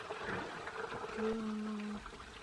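Water pours and trickles steadily through the radiator of a Mercedes 508D/613D van as its cooling system is flushed, with a faint low hum underneath.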